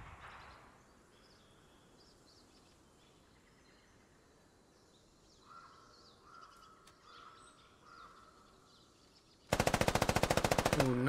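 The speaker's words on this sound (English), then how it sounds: "nice shots from Appa onto Evan SMA" Gunfire in the military shooter game Squad: faint birdsong and distant ambience first, then a sudden loud burst of rapid automatic fire at the very end.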